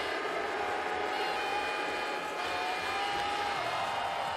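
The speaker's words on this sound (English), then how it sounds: "Now the crowd are really getting into this." Spectators at a ski jumping large hill qualification in Oberstdorf, Germany, cheer and clap in a steady, sustained roar, with faint horn-like tones drifting through the crowd noise.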